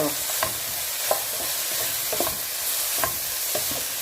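Sardines frying in a pan under steady sizzling, with a spoon stirring at a regular pace and scraping the metal about five times over four seconds, close by and with no talk.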